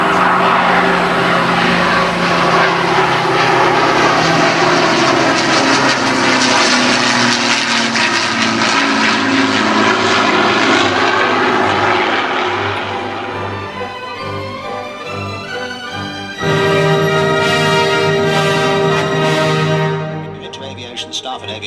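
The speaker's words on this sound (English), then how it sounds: "even if it's only a fly past, just like we're getting today" An aircraft flies past at an air show, a loud propeller-engine roar that sweeps by and fades, with a second engine surge following, while a voice talks faintly underneath.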